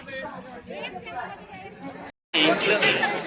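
Busy crowd chatter fills a crowded railway station in Prayagraj during the Kumbh Mela, a dense babble of many voices that cuts out briefly to silence before returning louder.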